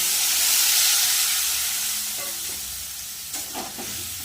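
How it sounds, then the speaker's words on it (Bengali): Potatoes and spices sizzle and fry in a pan with a steady hiss, followed by a few brief stirring scrapes near the end. "মশলাটা দিয়ে আলু দিয়ে ভালো করে কষিয়ে নেবো"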